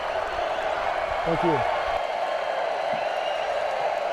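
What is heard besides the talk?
stadium crowd in the video game NCAA Football 2025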